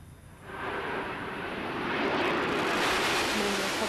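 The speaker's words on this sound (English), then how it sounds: "Landing gear touchdown." Space Shuttle Endeavour touching down on its landing after mission STS-127: a loud, broad rushing roar that swells steadily and stays up as the orbiter meets the runway.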